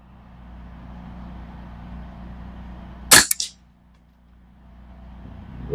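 A budget Ruger 10/22 rifle fires during a target group test, one sharp loud crack followed by a couple of quick echoing reports, set against a quiet outdoor background.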